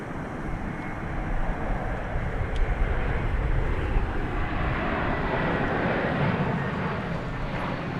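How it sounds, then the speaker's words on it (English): An American Airlines Airbus A321 arriving at DFW Airport, a broad, steady jet roar that swells slightly and holds, heard from a distance with some wind rumble. "It's American Airlines, Airbus A321."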